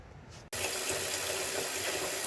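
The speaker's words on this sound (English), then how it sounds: "So here I'm just filling up the sink with hot water, just my kitchen sink" Hot water gushes from a tap into a very old kitchen sink, starting abruptly and running as a steady, close, full splashing rush with no talking.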